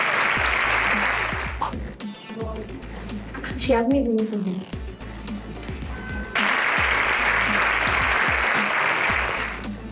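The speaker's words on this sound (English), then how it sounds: "Please clap for her" A live audience claps loudly for a student at a high school quiz draw, with dense applause at the start and again at the end, and a brief stretch of speech and voices in between.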